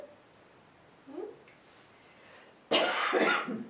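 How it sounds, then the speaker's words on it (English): A faint soft sound early on, then a sudden harsh burst of coughing close by from a female cat that rasps on for about a second. "That's just a terrible noise. Am I coughing?"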